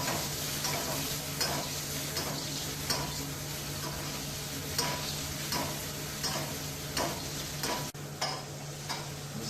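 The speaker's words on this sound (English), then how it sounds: "Just to finish it, you can drop in a little bit of butter." Venison pieces frying in a pan with butter and herbs such as rosemary or thyme, a steady sizzle with periodic spoon-basting clicks and scrapes running throughout, fairly close and even.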